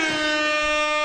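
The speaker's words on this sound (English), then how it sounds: "and an air horn" Air horn sound effect blares as one steady, loud, sustained tone with stacked harmonics, heard alone for about a second.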